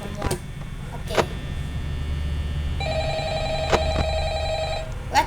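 A telephone rings in the horror video game Five Nights at Freddy's, a steady electronic ring tone over a low droning room hum, with sharp clicks and thumps scattered before and during it.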